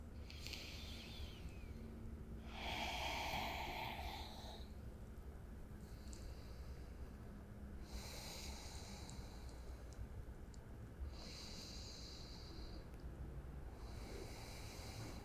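Slow deep breathing during a vinyasa yoga flow, several long airy inhales and exhales rising and fading at a steady pace over a quiet background hiss, with no speech.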